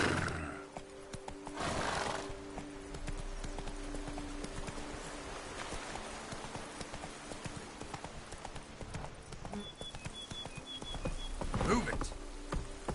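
Roach, a horse in The Witcher 3, trots with steady clip-clop hoofbeats and lets out a neigh, set against game ambience.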